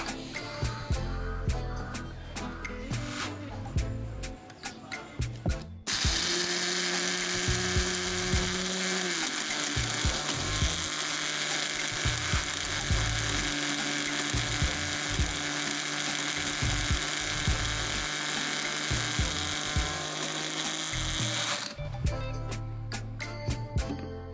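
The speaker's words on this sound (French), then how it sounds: "Et on va mixer tout ça." A blender whirring at high speed through onion and garlic peels with nigella seed, a loud sustained motor whine running for about fifteen seconds, preceded and followed by clattering handling noises.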